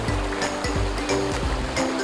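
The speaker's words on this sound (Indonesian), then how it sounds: "air sungainya yang jernih mengalir deras di atas batuan yang cukup cantik dengan berbagai bentuk" Clear river water rushing fast over rocks of many shapes and sizes in a foothill stream at Polompung, Melangkap, Kota Belud, Sabah; a steady, close, broadband wash with no voices.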